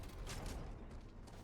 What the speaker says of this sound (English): Mag's empty. New mag.